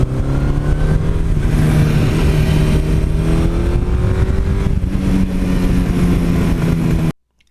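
A 1982 Suzuki GS1100E motorcycle being ridden, a steady loud engine drone with rising pitch under acceleration and a shift partway through, continuous wind rush, then an abrupt cutoff at the end.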